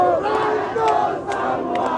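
Crowd of student protesters in Indonesia singing the national anthem Indonesia Raya outdoors, a massed rumble of voices with some sharp shouts above it.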